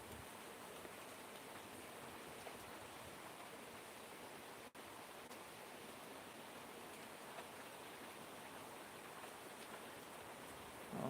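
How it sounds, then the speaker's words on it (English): Rain falls in a steady, even hiss, faint and constant throughout, with no voices. "I'm getting too much rain."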